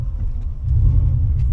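A lifted Subaru Forester's engine rumbles low and heavy off-road, swelling slightly as it revs in a short, close burst, with no talk over it.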